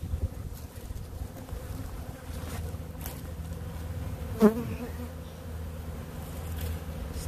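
Honey bees buzz steadily around an open hive in spring, a continuous low drone with one louder bee passing close to the microphone partway through.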